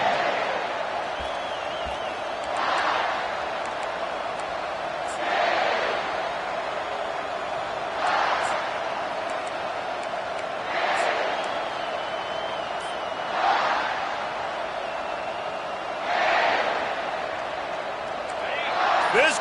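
A college football stadium crowd at a Tennessee versus South Carolina game roars in waves, swelling every few seconds into loud bursts of cheering over a constant broad murmur.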